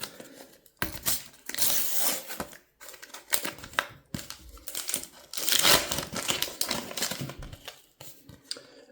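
Foil packet of 25-26 EFL football stickers being torn open and unwrapped, with loud, close crinkling and tearing in bursts, then quieter rustling of sticker papers.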